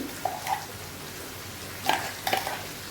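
Spices for chicken curry frying in a pan, a soft sizzle broken by a few brief scraping stirs, close and fairly quiet, with no talking.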